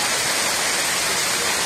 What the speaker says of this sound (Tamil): ஐந்தருவி உள்ளிட்ட அனைத்து அருவிகளிலும் தண்ணீர் கொட்டுகிறது.